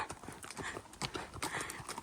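A pony trotting on the ground, hooves clip-clopping in a quick, steady rhythm, close and fairly loud, with faint background noise around it.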